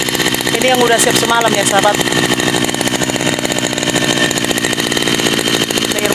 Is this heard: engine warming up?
yes